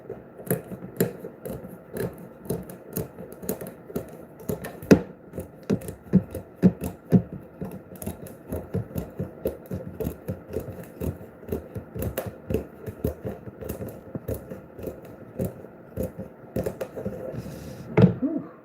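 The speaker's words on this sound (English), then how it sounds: "Man, my scissors are bent, but it works." Bent scissors cutting through projector screen material, a rapid series of crisp snips and rasps, close and fairly quiet, with no talk.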